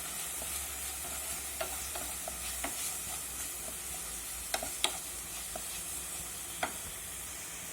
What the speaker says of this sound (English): I'll mix them well